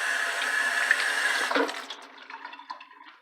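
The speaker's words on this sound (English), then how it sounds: "Wash my damn hands too, real quick." Tap water runs steadily while hands are washed, then the flow cuts off partway through, leaving faint drips and small splashes close by.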